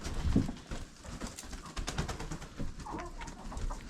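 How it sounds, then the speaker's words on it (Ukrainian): Chickens cluck and coo close by, several birds calling over one another amid shuffling and rustling movement. "відкриваємо наші курчата"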